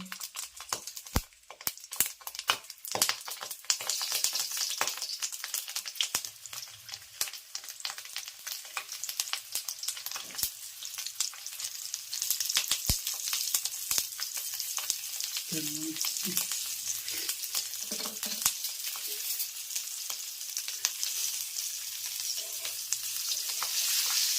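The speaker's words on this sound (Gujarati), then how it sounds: "તેલ આવી ગયું છે મરચાં સડાટી કરી રહ્યા છે" Stuffed chillies frying in hot oil, a continuous crackling sizzle with sharp pops and spatters, fairly quiet and close, with no talking.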